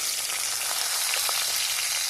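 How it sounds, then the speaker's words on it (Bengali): Shol fish (snakehead) frying in hot oil, a steady dense sizzle throughout with scattered crackles and pops, close and continuous with no voices. "মাছ আমার লাল করে ভাজা হয়ে গেছে"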